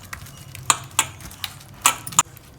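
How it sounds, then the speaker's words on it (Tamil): Sardines mixed by hand with chilli masala and lemon juice, heard as a few scattered wet taps and clicks against a bowl, close and soft, with irregular gaps and no talk. "இதையெல்லாம் நல்லா ஒன்றா பிசைஞ்சு வச்சுக்குவோம்"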